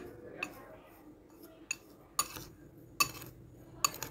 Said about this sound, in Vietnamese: Rồi, mình sẽ trộn đều lên.